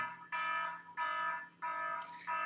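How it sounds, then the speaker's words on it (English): An electronic alarm going off indoors, sounding in repeated long harsh tonal beeps with short gaps between them, fairly loud and alone. "sometimes the alarm goes off in the middle of the video."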